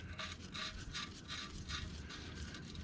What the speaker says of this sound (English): I'll go ahead and put the plug back in